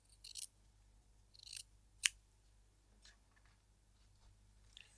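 Scissors trim off the excess fabric from a stitched bias tape strip, a few quiet isolated snips with one sharper cut, close in a silent room.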